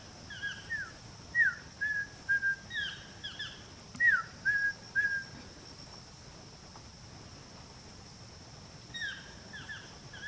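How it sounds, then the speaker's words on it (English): In the Mindo cloud forest, a yellow-throated toucan gives a series of repeated whistled, yelping calls in short phrases, moderately near over a constant hiss of insects and forest background. "That's a big yellow-throated toucan singing."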